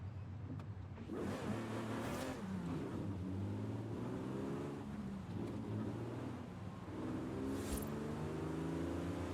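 A Lamborghini Diablo's engine revs repeatedly, rising and falling pitch sweeps climbing to high RPM several times in a row, fairly loud and close with no talking.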